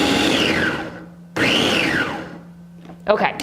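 Blender pulsing chopped cucumbers in two loud bursts, each whirring for about a second, followed by a brief spoken word.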